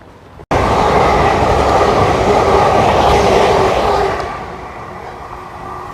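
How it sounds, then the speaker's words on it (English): A train roars by suddenly and close at Starcross, Devon, a loud steady rumble and rush of wagons lasting several seconds before fading away. "I've lost count how many trains I've seen"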